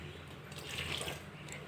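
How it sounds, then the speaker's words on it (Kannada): Water trickles and splashes faintly as a small amount is poured during cooking, a soft steady liquid sound with a brief brighter splash midway, quiet and alone. "ಒಂಚೂರು ನೀರು ಮೈಪುಗ"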